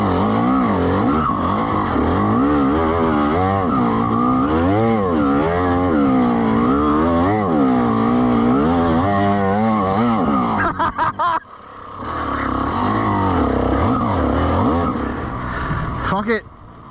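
Dirt bike engine revving and labouring on the Mililani trails, a loud, continuous droning note that rises and falls with throttle and gear changes, cutting out briefly near the end before picking back up.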